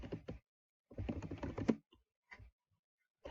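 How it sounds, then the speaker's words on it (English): Keystrokes on a computer keyboard while an assignment name is entered in an online class system, heard as quick clustered bursts of clicking with short pauses between, fairly faint and close, with no talking. "Type the name of your assignment."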